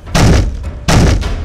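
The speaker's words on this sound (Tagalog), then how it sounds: "Kinalampag ng aswang ang pintuan noon." Heavy pounding on a sturdy wooden door, two loud bursts of thudding blows about three-quarters of a second apart, close and booming, each followed by a lighter knock.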